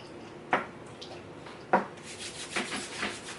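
Palms rub Olaplex No. 7 hair oil between them, making a few soft, brief swishing strokes, close and faint against a quiet room.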